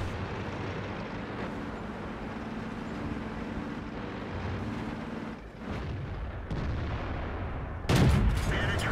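Tank gunfire in World of Tanks on the Karelia map, a deep booming game soundscape with rumbling engine noise, closing with one sharp, loud cannon blast near the end.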